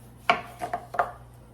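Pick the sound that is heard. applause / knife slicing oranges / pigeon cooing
knife slicing oranges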